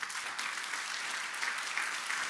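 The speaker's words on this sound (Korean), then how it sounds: "이 밤 우리가 짧지만 우리가 큰 박수로 한번 격려했으면 좋겠습니다." Steady, sustained applause from a church congregation at a revival service, a dense wash of clapping filling the moment at moderate distance with no one speaking over it.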